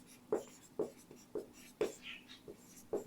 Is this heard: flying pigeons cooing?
no